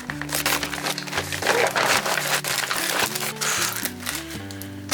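A plastic bag rustles and crinkles up close as it is handled through a craft haul, with irregular crackling bursts over a background of music.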